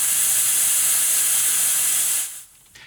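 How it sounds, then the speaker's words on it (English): Broadband white noise from a signal generator's noise oscillator, a steady loud hiss that holds evenly for a couple of seconds, then cuts off abruptly, leaving near silence. "I could change this to a noise sample."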